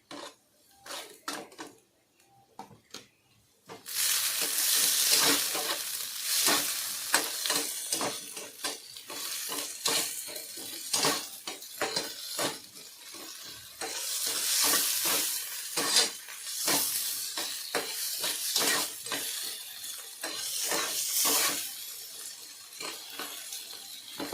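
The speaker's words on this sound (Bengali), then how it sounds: "পেঁয়াজটা হালকা ভাজা হয়ে গেছে এবার এর মধ্যে টমেটো কুচি দিয়ে দিলাম" Chopped tomato added to lightly fried onion in a pan, quiet at first, then a loud burst of sizzling with busy stirring and scraping of a utensil against the pan throughout.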